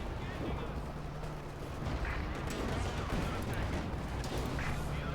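Shots and artillery-like booms echo through a Company of Heroes 2 battle, including rounds striking heavy tank armor, several impacts spread across a continuous rumble while a commentator talks throughout.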